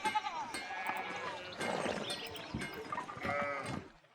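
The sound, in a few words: sheep bleating in the video game Pentiment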